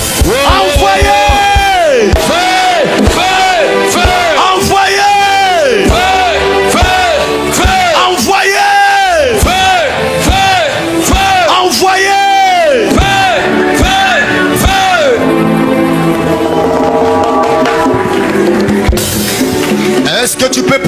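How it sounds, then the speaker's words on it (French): A church congregation led by a pastor shouts and cries out in joy, loud repeated whoops and yells surging in rhythmic waves alongside sung, chanted voices and music throughout. "Est-ce que tu peux pousser les cris de joie?"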